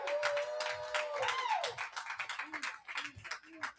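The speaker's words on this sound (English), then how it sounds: "Give another round of applause to Senator Lucas." An audience at a July 4th event in Colonial Williamsburg claps in a loose, fairly faint patter, mixed with a few cheers and some voices.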